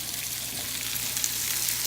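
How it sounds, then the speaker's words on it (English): Steady, crackling sizzle of chicken seasoned with salt and pepper frying in a hot non-stick skillet, close and even, with no talking. "put some of our basic seasoning on there, salt and pepper, and let it sizzle"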